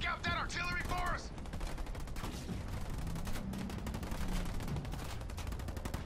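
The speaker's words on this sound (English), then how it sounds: "We're getting shelled down here." Artillery shelling and rapid gunfire from the real-time strategy game Halo Wars 2 pound continuously, with brief in-game radio voices near the start under the dense, steady barrage.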